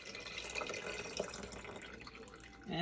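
Liquid from canned green beans pours in a soft, faint, continuous trickle with light splashing, rising slightly at the end, while a voice is faintly present.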